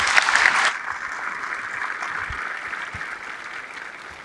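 Audience applause greets panel guests at an education and economic growth event in Allen County, loud at first, then thinning to a quieter sustained patter.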